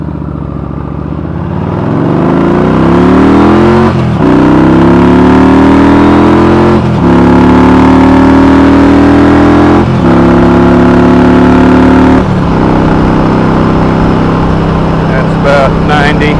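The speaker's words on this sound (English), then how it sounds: "Just going to do a quick run through the gears and demonstrate my Cobra slip-on that I installed on my 1300 here." Yamaha V-Star 1300 Tourer motorcycle with a Cobra 4-inch slip-on exhaust, loud and close, revving up through the gears in repeated rising pulls, each ending in a brief dip at the shift before steadying into a cruise.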